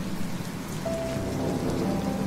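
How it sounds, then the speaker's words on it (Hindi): Steady rain pouring down with a dull thunder rumble underneath, a constant even wash of sound with no voices. "बारिश हो रही है"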